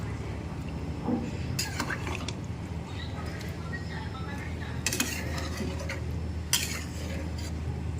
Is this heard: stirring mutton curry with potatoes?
yes